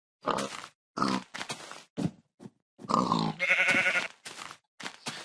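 Several short bursts of bleating from Minecraft sheep come in a choppy sequence with gaps between them, one longer wavering bleat near the middle, loud and close with no talk over them.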